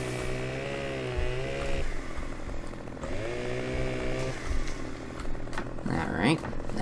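A tractor engine in the Farming Simulator 15 video game drones with repeated rising and falling revs, a buzzy mechanical tone. Extra machine clatter comes near the end.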